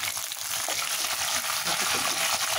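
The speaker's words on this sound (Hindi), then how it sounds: "अब हम इसमें हरी मिर्ची डालेंगे" Green chillies hit hot oil already holding cumin seeds and garlic, for a pumpkin-and-beef curry, and the pan answers with a dense, loud, close sizzle and crackle alongside steady stirring.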